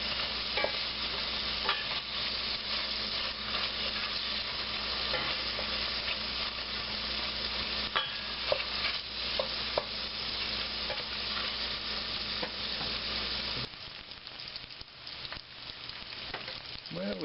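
Diced onions and celery frying alongside sausage in a pan for pasta fazool, a continuous close sizzle with intermittent scraping stirs, moderately quiet and without speech, the texture shifting briefly near the end.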